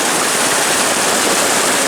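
Heavy rainwater rushes loudly and steadily through a small ditch, a dense, unbroken hiss with no voices.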